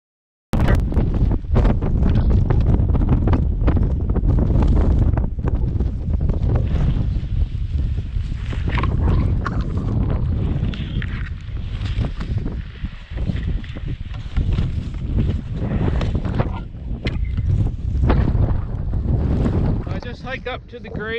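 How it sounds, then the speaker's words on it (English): Strong wind on Blackcomb Mountain buffets and roars across the microphone continuously, loud and gusty throughout, with occasional faint voices underneath. "Probably gonna be pretty windy up here."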